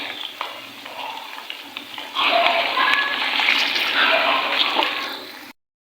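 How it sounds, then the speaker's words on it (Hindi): A steady sizzling hiss of chicken frying in a pan grows louder partway through, then cuts off abruptly, with faint clinks of stirring. "अब हम इस चिकन को अच्छे से फ्राई करेंगे"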